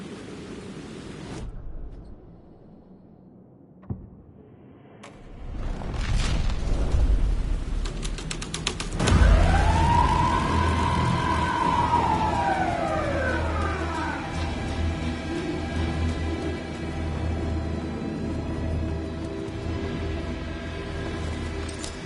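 A police car siren sweeps up and down in one long, loud wail that trails off over a steady background rumble and noise, with no talking.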